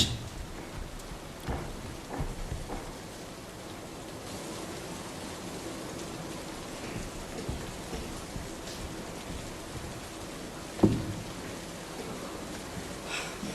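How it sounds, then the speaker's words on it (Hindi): Steady rain patters on surfaces, soft and continuous, with a faint thump partway through. "अरे अरे अरे बारिश।"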